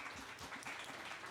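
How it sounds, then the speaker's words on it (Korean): A faint, brief round of welcoming applause from a congregation at a church youth worship service, heard as distant, steady clapping. "환영의 박수"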